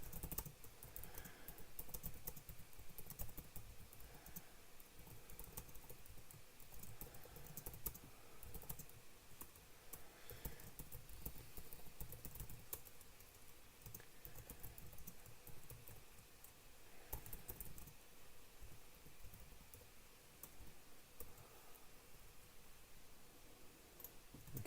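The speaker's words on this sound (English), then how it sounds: "Let me just type something." Steady typing on a computer keyboard, a continuous patter of quick keystrokes at close range running throughout with no talk over it.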